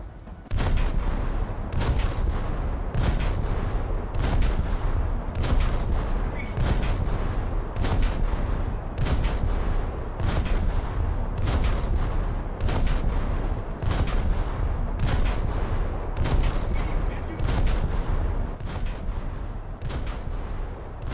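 Naval guns firing at a destroyer in a ship battle video game, sharp loud shots repeating at a regular steady pace, roughly every second, over a continuous rumbling background with no talk.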